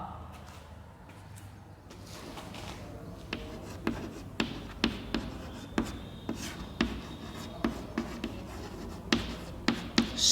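Writing on a classroom board: a steady run of sharp tapping strokes and short scratches, fairly close, in an irregular rhythm over a quiet room hum.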